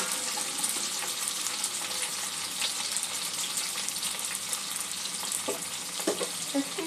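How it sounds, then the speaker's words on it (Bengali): Chicken meatballs frying in oil over a low to medium gas flame, five at a time, giving a steady dense sizzle and crackle with occasional sharper pops throughout, close and with no talking. "5টা করে ভেজে নেব।"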